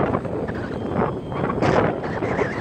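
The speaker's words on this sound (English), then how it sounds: "Just a little windy." Wind gusts buffet the microphone at an outdoor field where a DJI Phantom 1 drone is being flown, a steady rumbling roar with a stronger gust midway and no clear voices.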